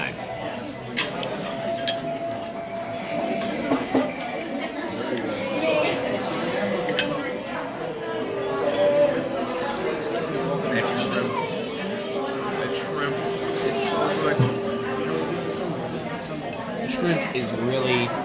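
A butter knife clinks against dishes and cutlery at a meal of Chinese takeout, giving scattered light clinks and taps under steady chatter and close talking.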